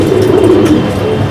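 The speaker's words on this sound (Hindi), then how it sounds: "अभी हमारे उस्ताद जी उड़ाएंगे कबूतर" Madrasi pigeons at a loft in Kotla Mubarakpur, New Delhi, give a low, rolling coo, close and loud, lasting a moment.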